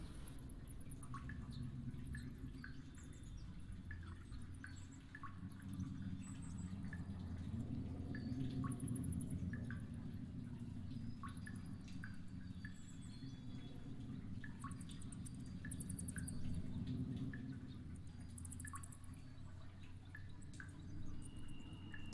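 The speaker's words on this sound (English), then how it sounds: "It's just the dripping of water." Water drips slowly and irregularly in a dark cave with stalactite formations, ambience for a tabletop game: quiet, evenly spaced plinks over a soft low hum, with no voices.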